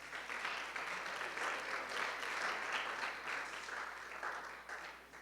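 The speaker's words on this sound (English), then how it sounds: "Please give a round of applause." A fairly faint room of people clapping in sustained applause at a spring break testimony gathering, swelling slightly and tapering toward the end, with no speech over it.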